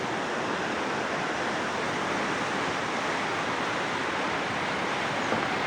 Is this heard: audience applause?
no